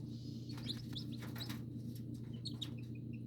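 Young chicks peeping: many short, high chirps scattered irregularly over a steady low hum, faint and close by, with no talking.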